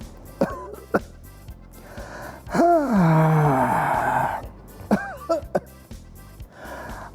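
A voice coughs in short bursts, then lets out a long, drawn-out wheezing groan, followed by more raspy coughs and gasps.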